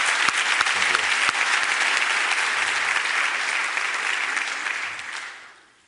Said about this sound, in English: Let's give him as the author a big round of applause.